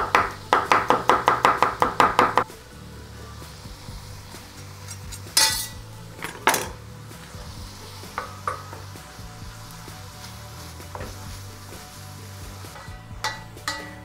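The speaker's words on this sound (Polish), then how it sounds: "Wkroję 3 ząbki czosnku." Three garlic cloves are sliced with a knife: a quick burst of about a dozen crisp, closely spaced knife taps on a board, followed by quieter kitchen clatter and a soft background sizzle.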